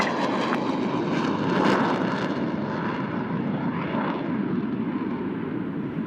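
Four military jets peel off from formation over the base at an air show, making a loud, steady roar that swells slightly and then holds.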